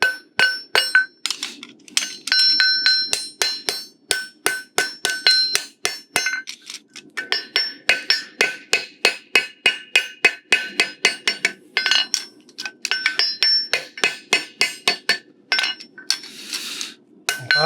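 A farrier hammers a horseshoe for a flat front hoof at a farriery conference, a long run of sharp, ringing metallic blows in steady rhythm, close and loud, with brief pauses between bursts.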